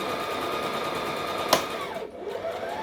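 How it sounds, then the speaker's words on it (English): A sewing machine hums steadily while stitching a dress, then its needle strikes a pin with a single sharp, brief click partway through, the motor slowing and quieting afterward. "That was a pin that I ran over"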